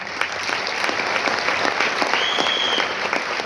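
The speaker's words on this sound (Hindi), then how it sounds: "एक बार जोरदार ताली हो जाए" Sustained applause from an audience, steady dense clapping filling the whole stretch at a fairly loud level.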